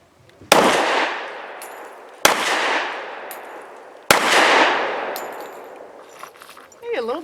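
Three loud, sharp pistol shots spaced about two seconds apart, each ringing out and decaying, from an S&W M&P 2.0 Compact .45 loaded with Federal Premium 165-grain low-recoil ammunition, with faint clatter afterward.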